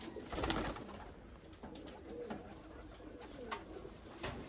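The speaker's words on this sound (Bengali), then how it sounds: "কবুতর কি ছেড়তে বলবে এখন?" Pigeons let loose during a traditional pigeon-catching contest, with cooing calls and bursts of fluttering against steady outdoor background noise.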